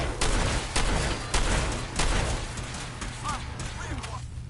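Rapid bursts of gunfire in Fallout 4 combat, several loud volleys fired in quick succession over a low rumbling battle din, with a voice briefly calling out near the end.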